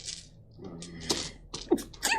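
A single quick sneeze stands out amid light room noise and scattered faint sounds.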